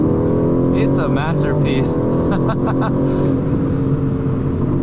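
Aston Martin Vantage with a Mercedes engine gives a loud, continuous engine roar with rising revs, close up, while someone talks over it.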